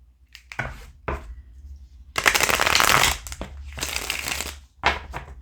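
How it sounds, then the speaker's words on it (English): A deck of tarot cards is shuffled up close in several loud riffling bursts separated by brief pauses, with the longest bursts in the middle. "Let me shuffle one more time."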